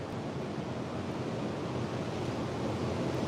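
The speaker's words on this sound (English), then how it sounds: "Man, them waves are getting massive out there." Large ocean waves breaking on the beach at Panama City Beach, Florida, a steady, loud roar of heavy surf with constant wash and some wind rumble, no voices.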